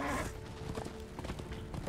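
Horse hooves clip-clopping in the video game Darksiders 2, a quick run of mid-loud steps over game music and ambience, with no talking.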